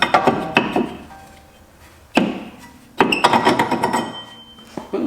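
Hard hammer blows strike a rust-seized brake rotor on a Honda Civic. A few loud, close metallic whacks ring out with reverberant decay, the last ones coming in a quicker cluster.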